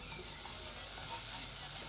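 Vegan war-time oatmeal sausages fry in a pan, giving a steady, close sizzle that holds evenly throughout with no voices.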